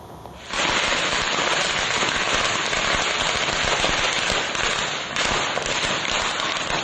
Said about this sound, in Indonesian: Ratusan petasan yang dibawa di motor tiba-tiba meledak dan menimbulkan kepanikan warga